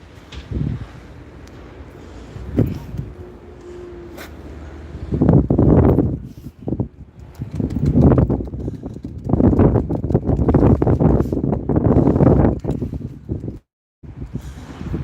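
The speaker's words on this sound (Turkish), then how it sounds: "Üç tarafa abi aşağı basıyor rüzgar." Strong gusting wind buffeting the microphone in loud surges that rise and fall, with a brief drop near the end.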